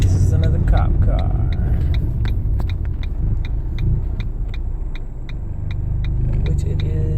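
A car rolls past on a road at night, a loud low rumbling engine and tire drone close by with a steady ticking, under a voice talking.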